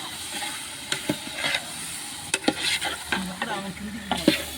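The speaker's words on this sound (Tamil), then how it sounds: "இது கறியை போட்டாச்சு நல்லா கிண்டிடுவேன்" Meat being stirred and fried in a pot for seeraga samba biryani, a steady sizzle with scraping spoon strokes and clatters throughout.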